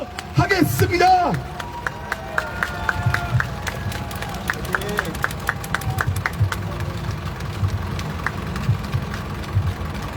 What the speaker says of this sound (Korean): 뜨거운 박수로 모시도록